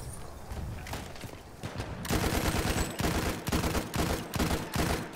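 Rapid bursts of gunfire in the World War I shooter Battlefield 1 crack out in quick repeated volleys, sparse at first and then louder and denser after a couple of seconds, with no talking.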